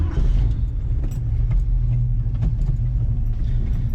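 A 1965 Ford Falcon Futura coupe with a 289 V8 and C4 three-speed automatic pulls out onto the road, its engine a steady low rumble heard close from inside the car, with some light rattles and jangles.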